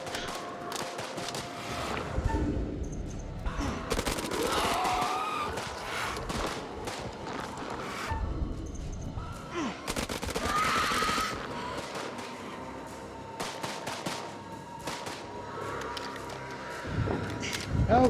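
Video-game gunfire rattles in repeated bursts and volleys, some rapid like machine-gun fire, loud and close, with voices and other game noises mixed in between the shots.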